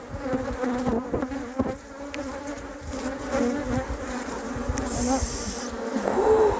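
Honey bees buzzing around a small nucleus beehive, a close, continuous droning hum with wings flitting near and away, while a person speaks briefly.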